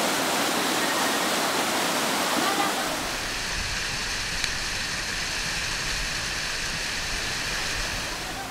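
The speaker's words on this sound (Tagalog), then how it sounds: "Medyo malakas na yung current kasi bumuhos yung malakas na ulan kani-kanina lamang." Strong river current swollen after heavy rain, a loud, continuous rushing roar of fast water close by, broad and unbroken, with a lower rumble in the first few seconds that drops away.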